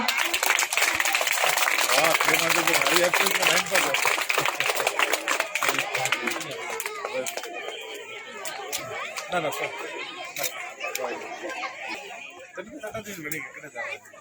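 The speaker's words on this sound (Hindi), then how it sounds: "बच्चों जोरदार तालियां" Children at a school annual function clap loudly, a dense, sustained burst of applause that starts strong and gradually thins out, with crowd chatter mixed in throughout.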